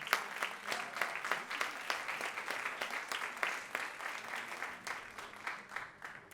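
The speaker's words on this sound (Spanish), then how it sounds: "que también hay que aplaudir, por supuesto, a nuestros traductores, pero a Malek también." An audience at a literary talk breaks into brisk, even applause, many hands clapping in a steady patter that holds at moderate volume throughout.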